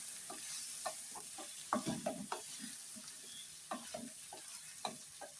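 Elephant yam pieces frying in a pan as a spoon stirs them, irregular scraping knocks and clatters over a low, steady sizzle, close and fairly quiet.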